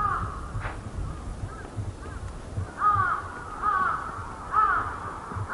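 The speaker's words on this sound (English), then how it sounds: "The cries of distant crows, the loudest noise that you can hear." Distant crows caw in short repeated calls, faint and spaced apart over a low rumbling background in the tsunami-damaged port of Kesennuma, Japan, with no voices.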